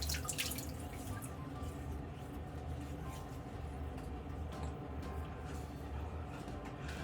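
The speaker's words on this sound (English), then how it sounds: "Let's rinse off and go for a second pass." Faint running tap water rinses a razor, a soft steady splash and drip sitting low under a background hum.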